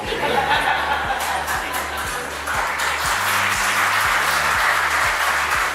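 Audience applause at a nursing panel discussion, steady dense clapping with some laughter mixed in, sustained throughout, with a low repeating tonal hum underneath.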